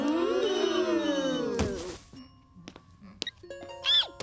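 A cell phone rings in a classroom with a rising electronic tone, then scattered chiming notes and a short melodic ring, moderately loud and near.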